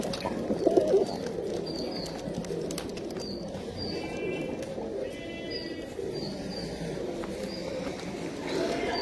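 Pigeons coo in a soft, low rolling murmur at a fancier's loft, with a few higher chirps from other birds, a brief thump near the start and someone talking intermittently.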